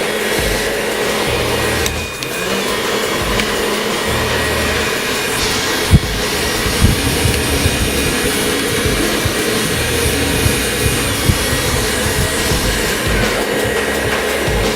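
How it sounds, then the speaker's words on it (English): A hair dryer blows continuously and loudly at close range while styling a pompadour haircut, a steady roaring whoosh with a few faint clicks. "use the airflow to push hair where we want it to go"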